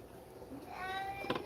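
A pet cat meows once, close and clear, rising into a drawn-out call in a home jewelry workshop where wire-wrap rings are made, with quiet room tone and no talking.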